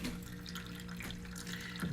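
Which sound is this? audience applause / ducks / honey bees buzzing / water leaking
water leaking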